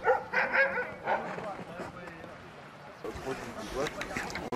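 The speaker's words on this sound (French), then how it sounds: "Conduire un attelage de chiens de traîneau." A sled dog team barks and yips excitedly, several dogs close by in rapid, overlapping bursts, with a busy outdoor bustle behind them.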